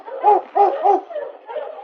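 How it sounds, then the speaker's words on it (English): A sled dog team on a Yukon trail gives a few close, sharp yips and barks in quick succession, followed by softer whining calls. "Sergeant Preston finally saw a dog team coming toward him"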